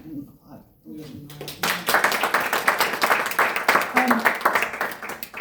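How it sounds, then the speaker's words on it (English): After a brief spoken line, an audience at a book launch on states' climate responsibilities breaks into sustained, full applause that carries steadily to the end, with a voice faintly underneath. "So let's just take a moment there and applaud Blue Ocean"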